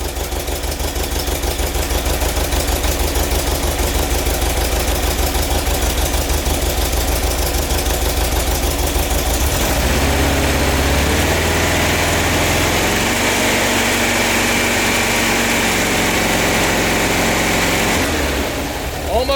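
A car engine, recently fitted with valves adjusted on hydraulic lifters, idles loud and close with a steady rumbling throb, its rhythm shifting midway as the idle speed is brought down.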